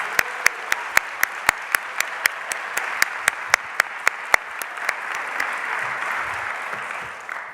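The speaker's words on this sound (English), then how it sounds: "One more round of applause for them" Audience applause at a Martin Luther King Jr. convocation: a steady wash of many hands clapping, with a few sharp, regular claps standing out close by, then thinning toward the end.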